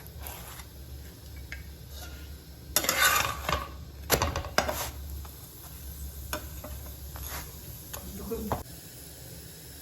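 Rolled potato parathas brushed with oil fry on a pan, turned from side to side. A low steady sizzle sits under louder bursts of spatula clatter and scraping.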